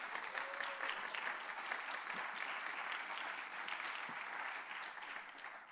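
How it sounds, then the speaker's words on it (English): An audience applauds at a service symposium, dense even clapping that holds steady for several seconds at moderate distance, with no voices over it. "I think we need to give Caleb Sy one more round of applause."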